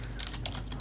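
Computer keyboard typing in quick, light keystrokes over a steady low background hum, brief and fairly faint.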